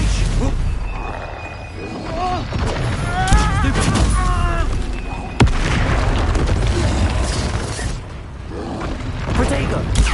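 Confringo spell explosions in the video game Hogwarts Legacy: repeated booming blasts and crackling bursts ring out amid combat noise, with a sharp impact near the middle and voices heard over the chaos.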